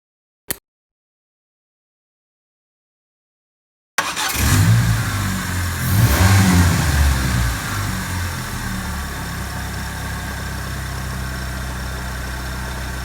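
A Saturn car engine fitted with a lawnmower carburetor kit starts after a brief click and settles into a steady, close, slightly rich-running idle with a low rumbling throb, a short surge of revs partway through, and no talking.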